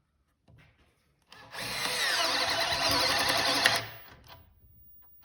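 Bosch GSR 12V-140 drill/driver at speed 2 boring into a board: a brief tap, then a steady high whirring grind of about two and a half seconds that winds down, close and alone.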